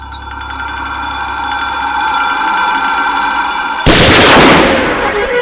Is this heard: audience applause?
no